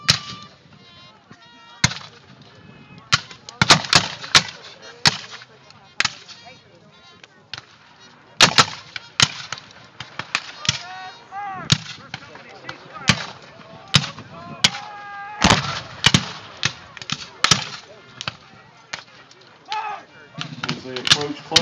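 Civil War reenactment battle scene with Confederate artillery and musket gunfire: a long run of sharp, loud reports and booms, some clustered and some spaced apart, with crowd noise and voices underneath.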